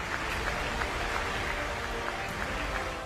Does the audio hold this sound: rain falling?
no